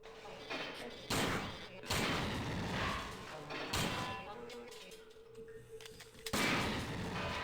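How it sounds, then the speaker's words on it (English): Droids blowing up in System Shock 2 produce several heavy, booming blasts spaced a second or two apart, each a sharp loud burst fading into a low rumbling ambience. "What the fuck are these droids made out of that they hurt you when they explode?"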